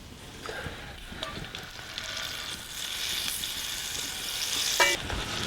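Pufftaloons fry in a pan of oil and butter with a steady, crackling sizzle that swells slightly as dough pieces are set in, with a brief clink near the end.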